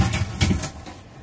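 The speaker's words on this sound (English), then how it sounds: "Wait, should we open the door? Okay, so we open the door" A closet door in a cabin bedroom swings open with a couple of close, muffled bumps and a soft rattling scrape, dying away quickly into quiet.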